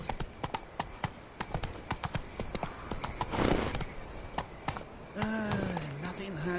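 Horse hooves clip-clopping at a steady trot in The Witcher video game, loud and close with a regular rhythm, followed by a horse whinnying; a voice speaks briefly over the hoofbeats.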